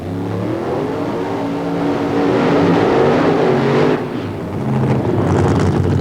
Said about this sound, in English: That's a nice way to begin the finals with side-by-side smoky burnouts